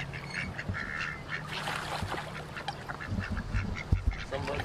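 Ducks quack repeatedly in a busy, overlapping chorus, some near and some farther off, against outdoor background noise.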